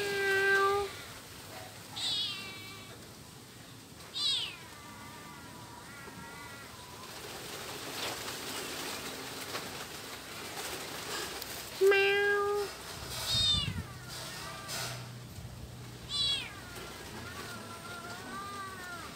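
Several cats meowing outdoors, a series of distinct drawn-out meows spaced across the span, fairly close and clear over low background noise, with some rustling and thuds between calls.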